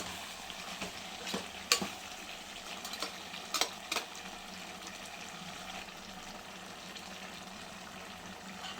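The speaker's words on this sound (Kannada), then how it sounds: "ಈಗ ಅದಕ್ಕೆ ನಾವು ರುಬ್ಕೊಂಡಿರೋಂಥ ಮಸಾಲನ್ನ ಆ್ಯಡ್ ಮಾಡ್ತೀನಿ." Ground masala fries in chicken gravy while being stirred, a continuous low sizzle broken by several sharp scrapes and clinks of a spoon against the pan.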